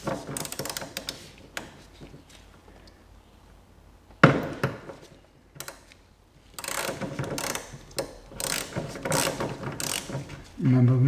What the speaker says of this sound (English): we need to slacken them off by a few turns